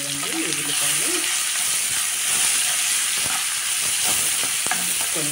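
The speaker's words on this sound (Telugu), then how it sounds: "ఇప్పుడు ఇందులోకి కట్ చేసి పెట్టుకున్న ఉల్లిపాయలు కూడా వేసుకొని దూరంగా వేయించుకుని" Chopped onions fry in hot oil in a pan for gongura tomato curry, giving a constant bright sizzle with occasional spoon scrapes and clicks, with a faint voice at the start.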